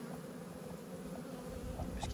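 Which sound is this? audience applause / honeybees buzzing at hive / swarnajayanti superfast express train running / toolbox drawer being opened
honeybees buzzing at hive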